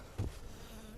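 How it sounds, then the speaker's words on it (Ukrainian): Honeybees crawling out of a beehive with a mesh screen bottom after it was knocked on, giving a soft insect buzz with a brief louder burst early on over low background noise. "постукав по вулику, сонечко пригріло, тепло прийшло і бджоли полізли"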